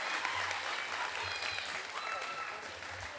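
Audience applause at a school awards ceremony, a steady dense clapping from a hall crowd that continues for the full three seconds with a few cheers mixed in.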